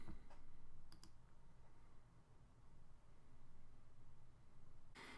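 A computer mouse clicks during WordPress page editing, giving a few faint, sharp clicks near the start and one more at the end over a steady low background hum.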